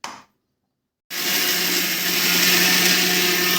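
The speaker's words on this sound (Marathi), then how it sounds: "आता आपण वाटून घेऊया मिक्सरमध्ये" A mixer grinder grinds peanuts and cumin for sabudana vada. A short burst is followed by a second of silence, then a loud, steady, high-pitched whir runs to the end.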